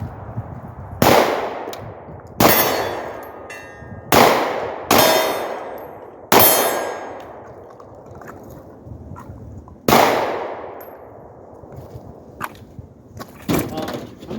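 Glock 43 pistol shots ringing off steel targets outdoors: six loud, sharp reports at irregular intervals, each with a metallic clang and a long ringing decay, plus fainter pops near the end.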